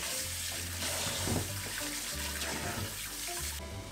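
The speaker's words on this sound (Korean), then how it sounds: "마지막에 물로 깨끗하게 헹구세요." Cucumbers being rinsed clean under a running kitchen tap, a steady close splashing stream of water in a sink that continues throughout, with no speech.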